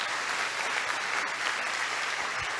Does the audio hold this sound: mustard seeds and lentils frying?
no